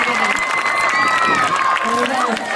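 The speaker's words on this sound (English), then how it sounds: "one more round of applause" Crowd applause at an outdoor community park grand opening: a dense wash of clapping with cheers and voices mixed in, steady throughout.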